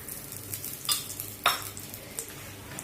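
Jackfruit poli frying in ghee in a pan: soft sizzling with a few sharp clinks and scrapes of a utensil against the pan, fairly quiet and close.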